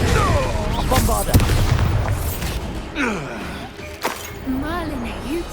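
A Bombarda spell explosion goes off in the video game Hogwarts Legacy: a loud, sharp blast early on, followed by spell effects and whooshing magic, with people talking throughout.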